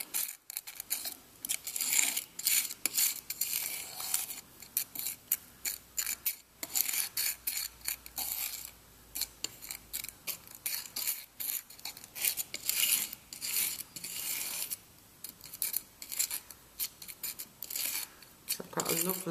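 Porcelain paint powder is ground and mixed on a palette with a knife, giving gritty scraping and rasping strokes in irregular bursts, close and fairly quiet, with brief pauses between passes.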